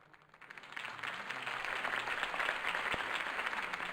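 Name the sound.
crowd applause after campaign speech, from Batman Telltale video game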